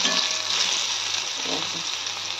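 Spring onion and garlic fry in oil with salt and a pinch of turmeric, giving a loud, continuous close-up sizzle and crackle with a little stirring underneath.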